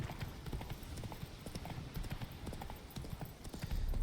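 Horse hooves clip-clopping in the video game The Witcher 3, a quick rhythmic run of hollow knocks at moderate distance, fairly soft, with ambient game noise behind.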